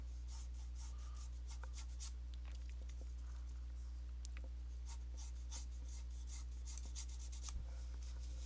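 Brush scrubbing oil paint onto canvas, short rhythmic scratchy strokes repeating faintly and close over a low steady hum, no voice.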